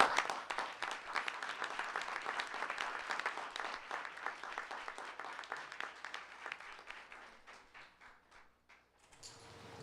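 Audience applause at a school board meeting honoring students and their parents, a steady roomful of clapping that gradually thins and fades out toward the end.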